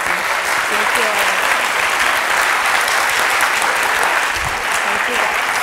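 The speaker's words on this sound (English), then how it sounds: "Can we give her a round of applause, please?" A seated audience claps warmly after a livestreamed presentation, producing dense, continuous applause that stays loud and even throughout, with no pauses.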